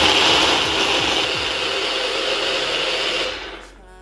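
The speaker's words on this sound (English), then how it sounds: "put it in our blender" A kitchen blender whirs loudly and steadily while blending a matcha frappuccino drink, then the motor winds down and cuts off near the end, with no talking.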